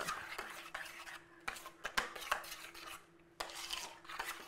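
A utensil stirs melting smoked cheese in a metal pot, sharp scraping clinks against the sides in an uneven rhythm, close and moderately loud, with a faint steady hum underneath.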